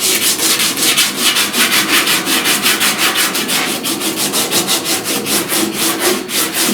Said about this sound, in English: Now I'm doing pure shaping here. I'm sanding nothing but curves